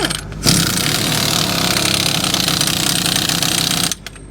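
A pneumatic impact gun hammers bolts tight on a Powerscreen bucket in one loud, continuous burst of rattling close by, about three and a half seconds long.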